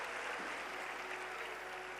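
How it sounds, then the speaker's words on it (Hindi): A large crowd at a live Shiv Mahapuran katha claps in welcome, a steady diffuse wash of applause at moderate distance. "जरा तालियां बजाकर सब अभिनंदन करें।"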